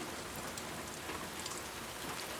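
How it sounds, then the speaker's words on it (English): Steady outdoor rain from The Last of Us Part II, a dense, even patter and hiss that fills the whole stretch with no voices. "The sound of the rain gets more clear as I come outside, right?"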